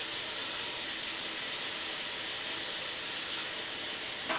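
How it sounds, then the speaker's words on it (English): Hands washed under running water with soap, a steady close hiss of flowing water lasting the whole time. "obviously I'm going to wash my hands again"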